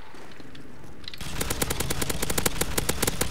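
An MG4 machine gun in MW2 zombies opening up after a quiet moment, unleashing a loud, close, rapid stream of automatic shots in an even rattling rhythm.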